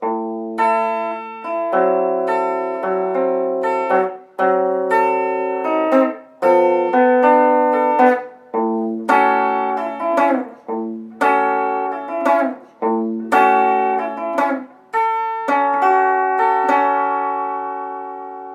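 A rockabilly guitar solo of finger-picked notes, each plucked note ringing and decaying, moving through a melodic phrase with no voices.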